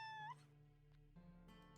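A cat in the game Whispers in the West gives a single short, rising meow near the start, followed by a quiet background music tone.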